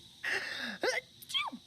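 A sharp, high sneeze followed by two more squeaky, sneeze-like bursts, close and fairly loud against a quiet background.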